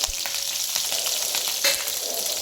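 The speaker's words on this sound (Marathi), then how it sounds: "हा थोडासा लसूण ठेचून घेतलेला आहे, 4-5 पाकळ्या, तो घालून घेऊया." Crushed garlic, four to five cloves, frying in a pan with cumin, giving a steady close crackling sizzle with scraping touches throughout, no voices.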